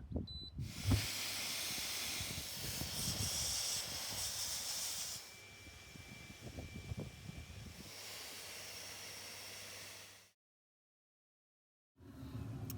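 A steady loud hiss of a Lay-Z-Spa Helsinki hot tub's air pump blowing continuously with low rumbling underneath, cutting off abruptly, then briefly resuming after a pause.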